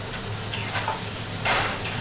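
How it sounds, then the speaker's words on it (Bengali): Potatoes fry in a pan for a Bengali cabbage dish, giving a steady close sizzle with a few brief louder bursts of hissing as they are stirred. "আলুগুলো ভাজা হোক।"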